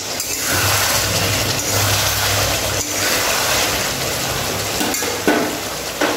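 Chicken do pyaza stirred in an uncovered pan after simmering, a steady broadband sizzle with faint scraping sounds running throughout, close and fairly loud, with no talk.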